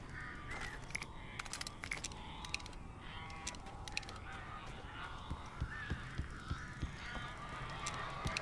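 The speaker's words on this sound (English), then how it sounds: "These birds are weird." Birds squawk and honk harshly in the Alan Wake video game, repeated raucous calls over a low mechanical background, fairly quiet and with no voices.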